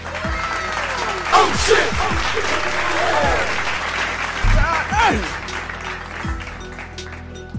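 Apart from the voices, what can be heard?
audience applause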